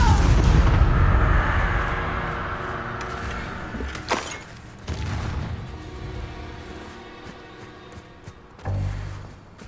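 Bombarda spell explosions in the Hogwarts Legacy video game: a big rolling opening blast followed by several sharp booming hits spaced a few seconds apart, each with a rumbling tail.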